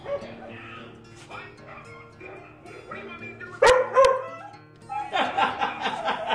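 A dog barks and yips from another room, short irregular bursts mixed with a television and someone speaking nearby, with louder barking clusters toward the end.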